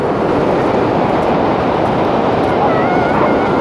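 Ocean surf washes steadily onto a sandy beach near San Luis Obispo, a loud, continuous broadband roar with no pauses and no voices.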